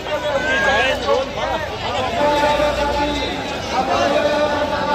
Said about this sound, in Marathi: खूप गर्दी बाबा जबरदस्त गर्दी